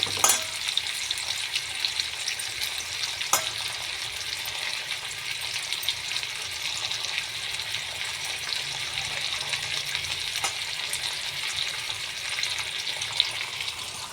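Several fish fry together on a flat griddle pan, making a steady, moderately loud sizzle with a few soft clicks, with no voices.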